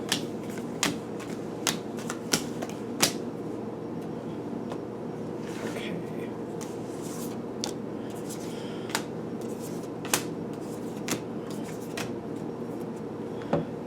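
Tarot cards are laid down one after another on a table, giving soft scattered taps and slaps over a steady low room hum, with a voice talking quietly.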